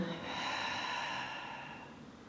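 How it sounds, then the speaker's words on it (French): A long, steady breath out during a Pilates stretch, soft and close, rising briefly and then fading slowly over about two seconds, with no talking. "Inspire ici et expire."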